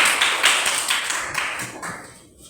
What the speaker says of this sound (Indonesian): Tepuk tangan untuk kawan-kawan.